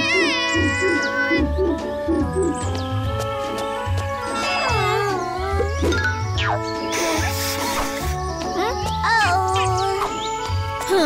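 A cartoon kitten gives several short meows and wavering cries layered over cheerful background music, close and distinct throughout.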